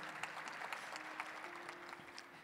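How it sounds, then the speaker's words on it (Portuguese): A crowd at a Catholic Terço da Misericórdia prayer gathering applauds a long-married couple, a soft, even spatter of many hands heard at a distance, with a faint sustained tone beneath. "vamos aplaudi-lo também."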